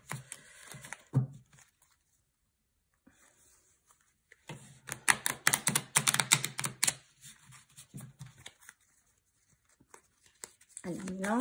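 Tarot cards being shuffled by hand, bursts of crisp riffling and flicking separated by quiet pauses, close and fairly faint, with a short spoken phrase near the end.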